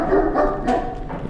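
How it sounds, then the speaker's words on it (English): Dog in the horror video game It Hides in the Forest gives one short, loud bark, close and alone. "Dog, seriously."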